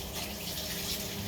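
A kitchen tap runs steadily into the sink while the temperature is adjusted for washing up, a close, even gushing flow heard alone.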